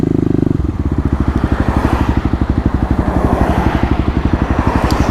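A 2018 Kawasaki KLX250 single-cylinder motorcycle accelerates close by, its loud rapid thumping exhaust pulses rising steadily in pitch with no one speaking.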